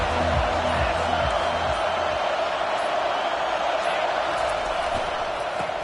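A stadium crowd roars steadily at a football game, a broad sustained wall of cheering and noise from a large audience, with an announcer's voice faintly over it.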